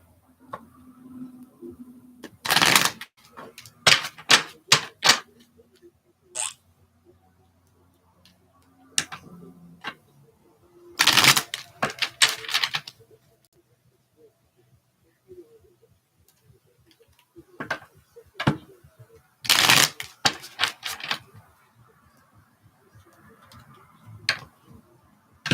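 Stiff, thick tarot or oracle cards riffle and snap in short bursts, several separate shuffles with quiet pauses between, close and crisp with occasional taps.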